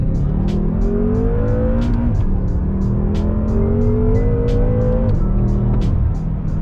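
A white 2012 BMW M5 F10 with a 4.4 engine accelerates hard, its loud engine note rising through the gears with a brief dip at each shift and the revs climbing again, heard up close from inside the car.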